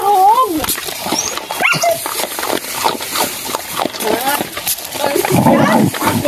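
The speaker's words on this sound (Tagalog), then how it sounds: "Tawagin natin yung mga aso" Dogs at a Filipino household are called over and fed, with whimpers and soft yelps breaking through steady close talk and feeding noise.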